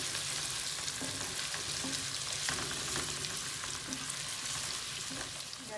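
Onion and garlic frying in a pan, a close, continuous crackling sizzle with soft rhythmic stirring scrapes running throughout, no one talking.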